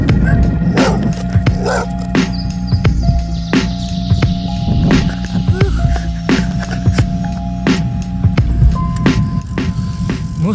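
A dog barks in a series of sharp, repeated yips beside a road on a bicycle tour in Thomasville, Alabama, loud and near over a steady low hum.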